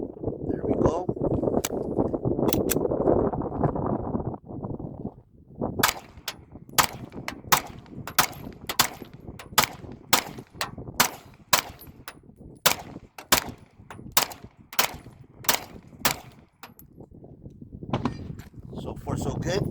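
A Springfield Armory XD Mod 3 pistol fires a long string of sharp, loud shots at a steady pace outdoors, with wind buffeting the microphone and a person talking at the start.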